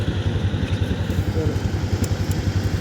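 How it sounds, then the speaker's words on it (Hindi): Tractors driving up and down a pile of crushed sugarcane, their engines chugging in a steady, pulsing idle-like rhythm from close by at moderate volume. "ये देखें जी ट्रैक्टर ऊपर भी जाते हैं और नीचे भी आते हैं।"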